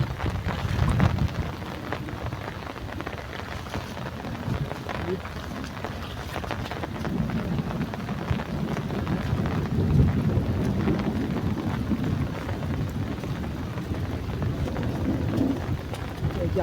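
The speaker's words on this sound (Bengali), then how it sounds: "আরো বৃষ্টিটা যেন আরো জোরে আসতেছে" Heavy nor'wester rain pours down at night beside a flooded village pond, a dense, steady roar with low rumbling that swells in places, while someone talks intermittently underneath.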